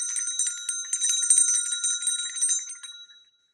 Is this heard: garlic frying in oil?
no